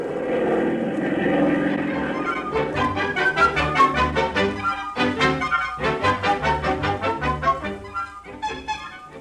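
A propeller airplane engine drone serves as a sound effect in an old-time radio drama, a loud, steady throbbing hum with a regular pulsing beat that carries on alone for several seconds.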